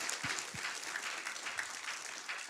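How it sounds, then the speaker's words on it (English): Audience applause after a question-and-answer session at a talk on Lewis, Tolkien and the Inklings, a steady mid-level crowd clapping with a couple of low thumps early on and no speech. "round of applause, round of applause"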